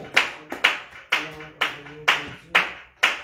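A church congregation at morning prayer claps in acclamation, seven sharp, evenly spaced claps from many hands about half a second apart, with a faint hum of voices underneath.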